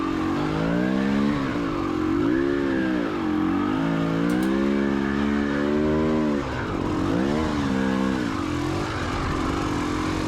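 A KTM 300 XCW dirt bike climbs a rocky, inclined trail, its engine loud and close throughout, rising and falling in pitch as the throttle is worked, with one brief dip mid-ride.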